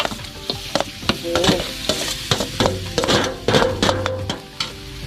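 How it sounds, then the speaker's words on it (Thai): Coconut being dry-roasted and stirred in a pot as filling for a Lao-Thai sweet, with close, busy scraping and clattering strokes over a steady sizzle, loud and continuous with no voices. "เราก็มาค้างหม้อลงคั่วขนมเนาะ เอามะพร้าวลงก่อน"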